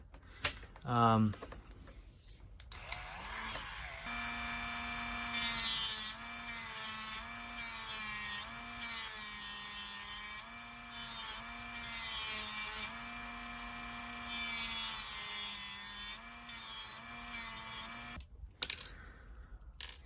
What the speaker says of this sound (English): we're gonna use same stuff, the Dremel with cutting disc.